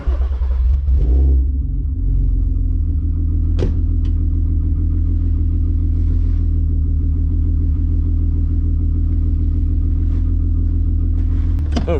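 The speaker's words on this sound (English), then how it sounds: "we should have some nice VR6 sounds" A VW Golf R32 with a VR6 engine runs on a chilly morning, its deep, loud rumble holding steady and close throughout, with a brief swell of revving near the start and no talk over it.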